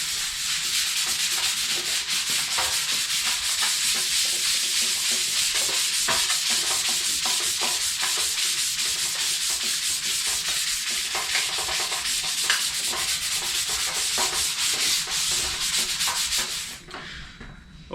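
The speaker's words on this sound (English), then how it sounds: "for the sander we use the P180" A sander with P180 abrasive works over the painted surface of a Sportster motorcycle fuel tank, a continuous close, gritty rasping hiss that holds steady for nearly the whole stretch before tapering off at the very end.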